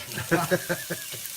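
Small fat pieces sizzle and crackle on hot braai coals, a soft steady hiss broken by several short bursts of popping, with faint background noise and no clear talk.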